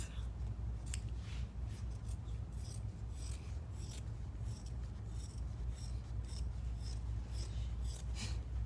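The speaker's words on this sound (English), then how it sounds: "And then you cut it with a 1/4 of an inch seam allowance." Scissors snip through fabric to leave a quarter-inch seam allowance around unhooped embroidery, a steady series of close, crisp cutting and rasping strokes with no talk.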